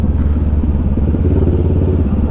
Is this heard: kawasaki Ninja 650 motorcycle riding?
yes